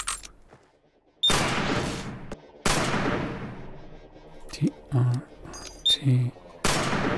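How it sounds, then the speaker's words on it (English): Gewehr 98 Mauser bolt-action rifle fired in the video game Receiver: several loud, sharp shots with long decaying tails, spaced a second or more apart, with a voice talking between them. "Gewehr 98, Gewehr 98. Mauser bolt action rifle."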